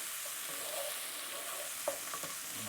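Chopped jalapenos stirred into a hot pan for a Cajun dish, a steady sizzle with a few sharp scraping stirs near the end, close and clear with no talking.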